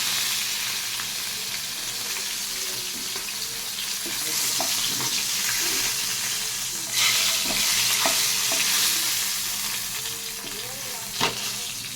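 Fish frying in hot oil in a home kitchen pan, giving a continuous crackling sizzle with occasional stirring scrapes and clinks and a brief run of tap water, all at moderate volume with no talking.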